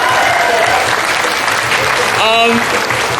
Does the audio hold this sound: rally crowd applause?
yes